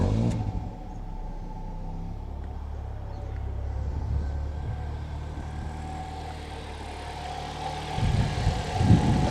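Ford Fiesta ST150 fitted with a Graham Goode Racing induction kit: the engine catches and settles into a steady, fairly quiet idle, then briefly revs higher near the end.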